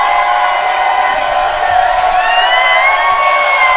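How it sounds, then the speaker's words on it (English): Excited crowd at a high school boys' basketball game, a loud sustained roar of cheering and shouting with whoops rising over it. "As you can hear the crowd getting excited."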